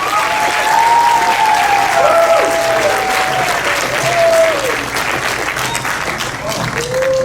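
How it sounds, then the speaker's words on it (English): Sustained applause from a graduation ceremony crowd at a Bible college and seminary, steady and full throughout, with a few whoops and voices rising above the clapping. "Let's give all the graduates a round of applause again."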